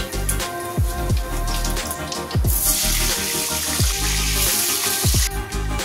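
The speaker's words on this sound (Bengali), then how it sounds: "মাছগুলো ভেজে নিয়েছি, এবার বেগুনগুলো ভেজে নেব।" Eggplant slices sizzle and spit in hot oil in a pan, a continuous crackling fry close by, punctuated by soft knocks and clatter of the pan and utensils.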